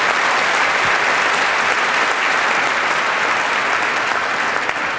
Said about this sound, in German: Beifall für Udo Kiesling.